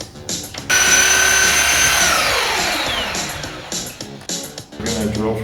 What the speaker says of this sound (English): And then I'm going to drill from this side now.